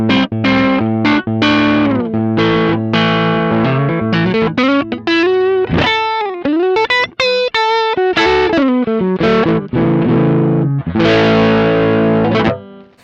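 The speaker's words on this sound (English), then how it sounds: "Or you can get it to sound more tweedy just by turning that up." Electric guitar through a drive pedal turned up for a tweedy, crunchier voicing, playing chords with bends and quick licks, loud, continuous and alone.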